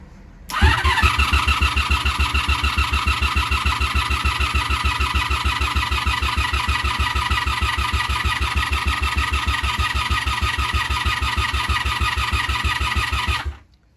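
A 1987 Honda Super Magna 700 (VF700C) motorcycle engine fires up with the choke on and settles into a loud, steady, lumpy idle running close by for over twelve seconds before cutting off.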